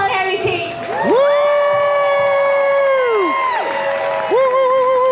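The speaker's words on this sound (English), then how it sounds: "Can everybody break out in a round of applause for our culinary team?" A festival crowd cheers for a culinary team with loud, drawn-out whoops and shouts, voices rising and sustaining together, with faint clapping beneath.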